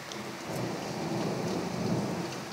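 Steady rain pours down during a summer thunderstorm in Demmin, a dense close hiss with low rumbling thunder under it, no voices.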